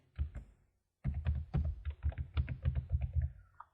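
Password typed on a computer keyboard, a close run of quick clicking keystrokes that starts after a short pause and continues steadily.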